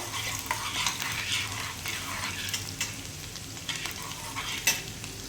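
Onions for a mutton curry sizzle steadily in a pan while being stirred, with spatula scrapes and light metallic clinks of the pot scattered throughout, close up and without any talking.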